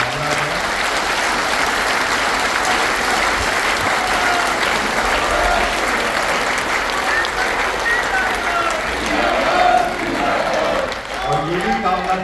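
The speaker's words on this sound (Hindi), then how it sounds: "ाहुल गांधी का जन्मदिन है, तो उनके जन्मदिन पर आइए हम आप ताली बजाकर शतायु होने की कामना करें।" Sustained applause from a large audience at a national convention event, steady and dense for the full twelve seconds, with a few voices rising briefly near the end.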